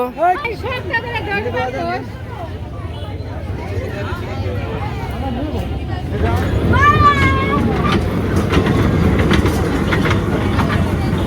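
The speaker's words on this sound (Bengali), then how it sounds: "এই যে ট্রেন চলতেছে" A small fairground ride train at a traditional village fair in Bangladesh rumbles steadily, its clatter growing louder and closer partway through. Crowd babble, whistle-like tones and nearby voices sit over it.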